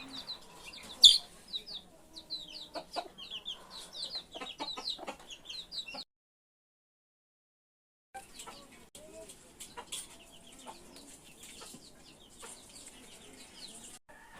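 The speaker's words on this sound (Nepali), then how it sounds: "यो मेरो कुखुराहरू हुन्।" Backyard chickens clucking softly in bursts, some near and some farther off, with short chirps scattered throughout and a pause partway through.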